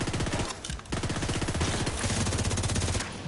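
Rapid automatic gunfire from the shooter video game The Division 2, loud continuous bursts of shots with a brief dip in the middle, heard alone.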